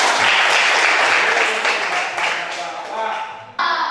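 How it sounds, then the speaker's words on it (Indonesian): Students clapping together in a classroom during a lesson, a loud burst of close handclaps that fades slightly, then ends abruptly as another sound cuts in. "Tepuk tangan"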